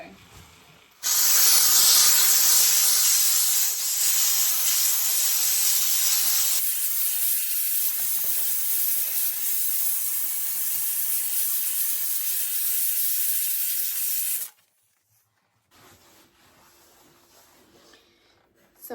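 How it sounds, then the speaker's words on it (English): Dupray steam cleaner with a metal attachment cleaning an AGA oven, a loud, close, steady jet of hissing steam that starts abruptly, drops slightly in intensity partway through, then cuts off, leaving near silence. "I've just put the metal attachment on, and that is shifting it really quite effortlessly."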